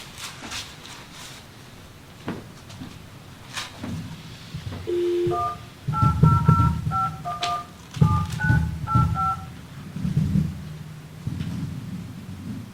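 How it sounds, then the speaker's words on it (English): Telephone keypad tones beep in a quick run of short notes as a number is dialed into a conference call line, with faint room noise and thumps around them. "I have to turn on the phone again to let Cheryl help us"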